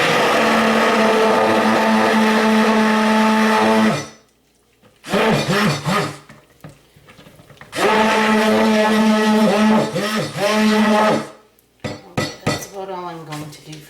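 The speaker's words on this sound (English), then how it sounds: "I'm going to just give it a quick stick blend" A stick blender whirs in goat's milk shea butter soap batter, running in two loud bursts of a few seconds each, with quiet pauses and clinks of the container in between.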